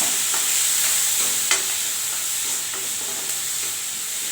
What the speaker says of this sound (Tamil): அவரைக்காய் அரிஞ்சு வச்சுருக்கேன் இதை நல்லா வதக்கிக்கிறேன்